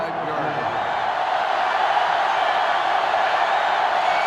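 Stadium crowd noise in the video game NCAA Football 2005 during USC at Tennessee: a steady, loud roar of massed voices, an even wash with no distinct peaks from start to finish.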